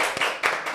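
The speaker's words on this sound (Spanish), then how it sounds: "Un aplauso para Adalberto Escorcia" A short burst of applause for a podcast guest, several quick overlapping claps at close range, brief and moderately loud.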